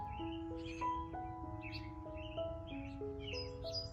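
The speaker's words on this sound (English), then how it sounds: "So enjoy this little sound from the birds." Birds call and chirp outdoors in a backyard orchard and garden, a steady chorus of thin whistled notes and sharp chirps over low background hum, with no voices.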